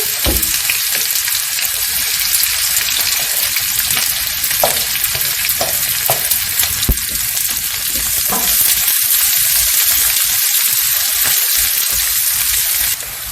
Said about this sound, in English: Okay, sliced onions go into the pan.